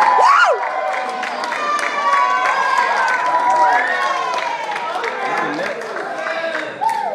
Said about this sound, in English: they heard a great victory cheer